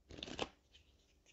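Tarot cards being cut and shuffled: a short burst of riffling card flicks in the first half second, then faint handling rustles.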